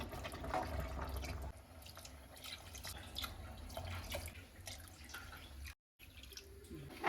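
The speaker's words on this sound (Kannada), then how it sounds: "ಇದೇ ಗ್ಲಾಸಿಂದ ಇವಾಗ ನಾನು 5 ಗ್ಲಾಸ್ ಅಷ್ಟು ನೀರನ್ನ ಹಾಕೊಳ್ತೀನಿ" Water splashes and trickles into a pot, poured from a glass in several uneven pours, a close, gurgling liquid sound with brief pauses between.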